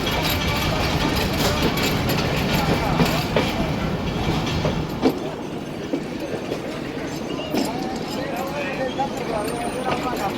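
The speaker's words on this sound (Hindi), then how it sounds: "40 डाउन जाफर एक्सप्रेस का डिपार्चर का वक्त और टाइम पे हम लोग निकल गए हैं।" A Jaffar Express passenger train leaves Sibi Junction, its steady rolling rumble and clattering wheels continuing for ten seconds with occasional rattles and knocks as voices talk over it.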